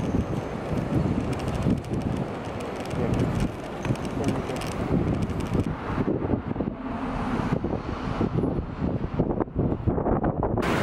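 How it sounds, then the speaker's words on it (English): Strong wind gusts buffet the microphone outdoors on a walk near the Meiji shrine in Tokyo, producing loud, uneven rumbling bursts that rise and fall throughout. "but it's really windy today."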